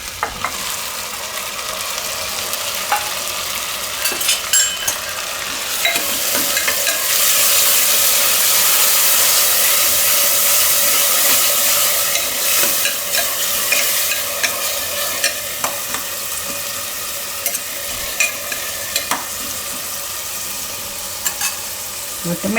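Tomatoes frying in hot spiced oil for a Gujarati onion and potato curry, a continuous loud sizzle with scraping stirring strokes, swelling when the tomatoes go in and staying dense throughout, with no talking.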